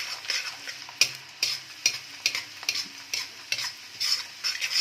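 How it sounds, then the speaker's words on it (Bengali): Chopped ginger and garlic fry in oil while being stirred, with a soft sizzle broken by regular scraping strokes of a utensil against the pan, close up and fairly quiet, with no voices. "আগে আমি একটু আদা কুচো আর একটু রসুন কুচো দিয়ে দিলাম, দিয়ে ভালোভাবে নেড়ে নিচ্ছি।"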